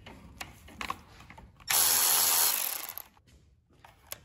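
Power tool spinning out an 8 millimeter bolt on a Kohler 7000 series engine, one loud whirring burst of about a second and a half, close up, between faint clicks and handling noises.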